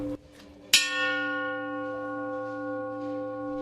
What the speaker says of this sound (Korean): 정확하게 완전히 산사의 종소리처럼 여운이 길게 가잖아요.